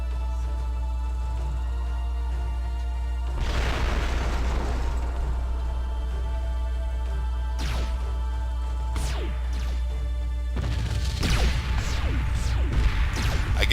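Missiles burst in a space battle in the strategy game Sword of the Stars, a low steady drone underneath as several blasts rumble and crackle, one cluster midway and a denser, louder barrage toward the end.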